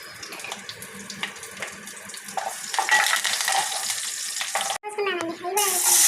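Tempering spices hit hot oil in a pan while meal maker curry is being cooked, giving a continuous bright sizzle and watery hiss that swells midway, with a brief break and a short burst of talk near the end.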